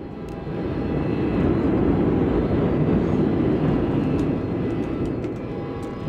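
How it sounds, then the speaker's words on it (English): A train rumbles past in Vampire: The Masquerade – Bloodlines, a steady broad low roar that swells in over the first second, holds loud and sustained, then eases slightly near the end with no voices. "That was pretty cool. I like seeing the train."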